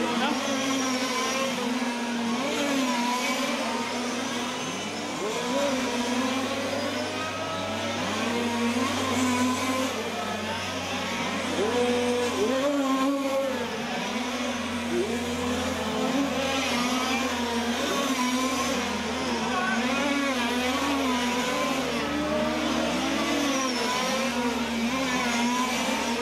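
Large-scale RC touring cars race at the 2012 European championship sub-finals. Several high, buzzing electric or nitro motors whine continuously, their pitch sweeping up and down as the cars brake and accelerate through corners, with a voice heard faintly underneath.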